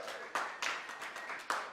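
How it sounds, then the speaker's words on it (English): Audience applause at a telethon sounds as several bursts of hand clapping, fairly faint and distant, each swelling sharply and then thinning out. "Let's give them another round of applause, folks."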